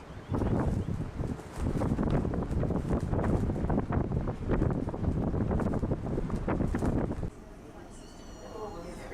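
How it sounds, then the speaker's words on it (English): Strong morning wind on a boat sailing north of Avignon buffets the microphone in loud, steady roaring gusts for most of the clip, then drops to a quieter hiss near the end. "Very windy this morning."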